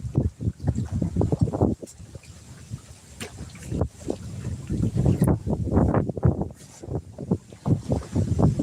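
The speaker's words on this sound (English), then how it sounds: "the wind's still kind of bad even with that thing on it" Wind gusts batter a microphone on a boat parked by an island while fishing for crappie and catfish on a lake, loud buffeting low rumbles in uneven bursts, no talking.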